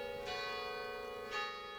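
Church bells ring in the mountain village of La Giettaz, with two bright, resonant strikes about a second apart and a sustained humming tone between them, with no voices.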